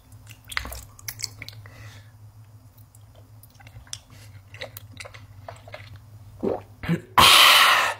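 Close-up chewing and biting of a giant water jelly, with wet, squishy smacks and clicks over a low hum, ending in a loud burst of noise.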